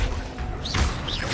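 A Descendo slam spell in Hogwarts Legacy, a dense crashing impact with swooshing magical sweeps in a short burst, loud and close.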